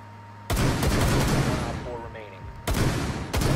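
Bursts of automatic gunfire in the tactical shooter game Rainbow Six Siege, close and loud, coming in two or three rapid volleys separated by short pauses.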